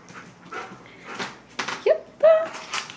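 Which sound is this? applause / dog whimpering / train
dog whimpering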